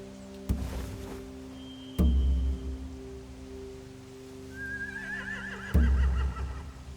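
Horses in a video game whinny in a rising, quavering call amid heavy thuds and a steady low hum, with rain-like hiss in the background.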